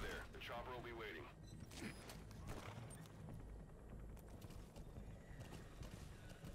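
Horse hooves clip-clop steadily in the Metal Gear Solid V video game, an ongoing galloping rhythm heard close with game noise around it and no talk.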